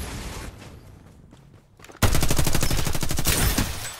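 Rapid automatic gunfire from the battle royale shooter Farlight 84, a loud close burst of evenly spaced shots starting halfway through after quieter game ambience.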